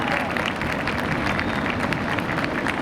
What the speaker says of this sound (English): Let's have another round of applause for Darren Bach